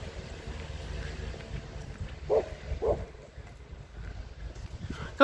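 Two short dog barks, spaced about half a second apart, mid-distance over steady wind and low background rumble.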